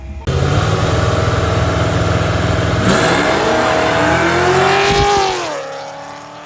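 A Kawasaki Z650 motorcycle engine runs loud and close, revving with rising pitch over several seconds before dropping off near the end, with no talk over it.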